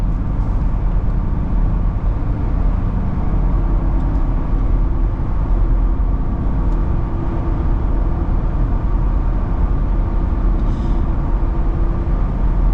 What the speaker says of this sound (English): you can hear it's a little bit louder in here